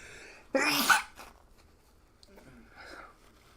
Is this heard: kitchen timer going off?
no